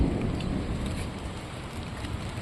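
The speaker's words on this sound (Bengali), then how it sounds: "তো বিদ্যুৎ চমকাচ্ছে, তার সঙ্গে বৃষ্টি।" Steady rain falls in a village among eucalyptus trees during a storm with lightning, a dense even hiss that holds at the same moderate level throughout, with no distinct thunderclap standing out.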